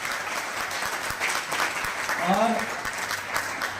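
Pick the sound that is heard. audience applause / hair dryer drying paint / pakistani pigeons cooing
audience applause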